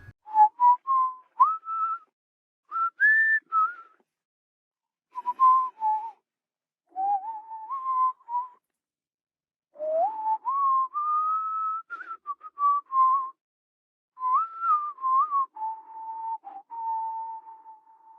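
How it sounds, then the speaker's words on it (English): A melodic whistled tune from McCree in the video game Overwatch, in short phrases separated by brief pauses, clear and close, with rising and falling notes and no other sounds. "I do love this whistle that I presume is McCree's"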